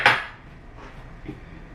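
A pot for making peach syrup is set down on a kitchen stove with one sharp metallic clank, followed by faint, low rustling and a soft knock.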